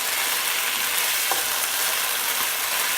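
Beef stir-frying in a pan with broccoli nearby, a dense, even, close sizzle running throughout, with a faint stirring scrape or two under the hiss.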